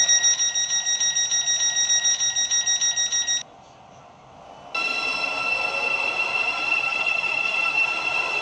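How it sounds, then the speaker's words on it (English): A train in the Roblox-style game Stepford County Railway gives a steady beeping warning tone, then a short near-silent gap, then a loud sustained electronic hum and whine, with no voices. "This train is formed of 3 coaches."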